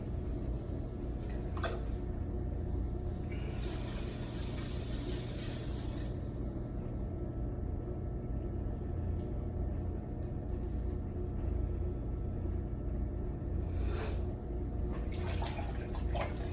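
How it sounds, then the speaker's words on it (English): A potter's wheel slowed down while porcelain clay is pulled up: a faint, steady low motor hum runs throughout, with soft, wet, occasional swishes and drips from hands on the spinning clay. "I'm going to slow the wheel down to pull up"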